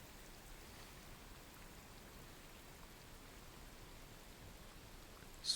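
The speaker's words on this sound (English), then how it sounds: "Rain sounds." Recorded rain plays faintly as a soft, even hiss of drops, with a brief small knock near the end.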